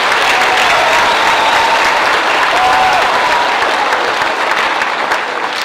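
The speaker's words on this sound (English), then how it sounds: "A big round of applause for Mrs. Knox, everybody" Loud, continuous applause from a large audience, a dense wash of clapping that holds steady throughout.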